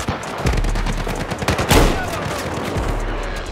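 Rapid bursts of gunfire in a Battlefield 4 match, loud and close, with repeated shots and a heavier blast near the middle over continuous battle noise.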